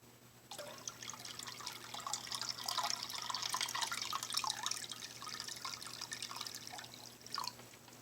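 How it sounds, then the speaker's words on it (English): Water poured into a small jellyfish tank, a faint steady trickle and dribble with light splashy texture for several seconds, heard alone in a quiet room. "Maybe if I add some more water to it."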